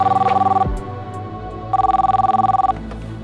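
A telephone rings in two bursts of rapid trilling bells, separated by a short pause, close and clear.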